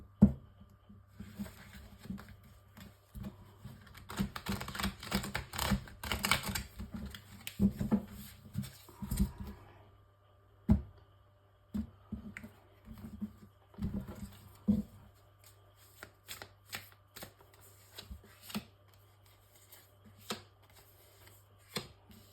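Tarot cards being shuffled by hand, a deck of illumination tarot prepared for a nine-card spread: repeated soft riffling and patting bursts, close and moderately loud, with pauses and single taps between, and no talking.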